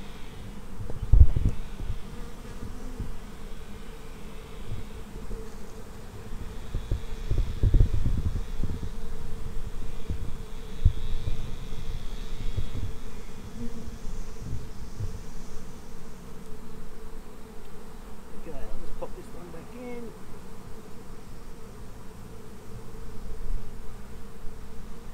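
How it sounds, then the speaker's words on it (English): Honey bees swarming around an open hive during a brood inspection give a steady, moderately loud buzzing drone lasting throughout, with occasional thumps and knocks from handling close by. "So our bees sitting there for a while."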